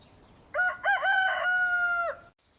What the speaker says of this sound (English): I can hear the rooster.